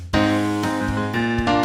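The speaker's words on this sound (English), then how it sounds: "It's called the flat 6, flat 7 to 1 cadence." A sustained orchestral-style chord progression moves through the flat six and flat seven chords to the tonic, three bright, full chords in a heroic cadence, played loud and alone.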